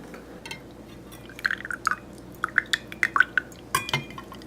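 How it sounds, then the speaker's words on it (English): Water poured into a pour-over coffee maker sitting on a small glass, with faint trickling and a series of light drips and splashes building up close by in a quiet kitchen. "I'm just going to fill up the rest of the pour over"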